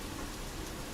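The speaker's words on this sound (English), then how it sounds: "It's pouring down rain outside." Heavy rain pouring down outdoors, a dense, steady hiss of drops filling the whole second at an even loudness with no voices.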